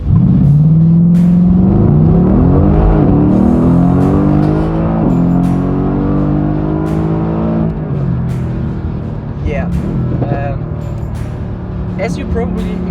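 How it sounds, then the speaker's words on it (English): A Mercedes-AMG GT-S with a 4-liter biturbo engine accelerates hard from inside the cabin, rising through several gear pulls with clear shifts, loud and close, while someone talks over it. "It's the known 4-liter Biturbo engine out of the E63, C63 and so on, but it's just a lighter car."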